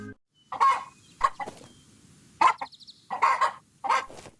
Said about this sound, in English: a chicken running around its pen.